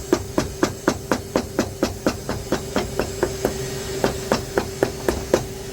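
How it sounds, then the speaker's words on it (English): A cobbler's two-faced hammer taps an Oxford shoe over and over in a steady, quick run of roughly twenty close, sharp blows, with a faint hiss running beneath the strikes. "I like to have my bigger hammer, two-faced hammer like that, and work up the shoe"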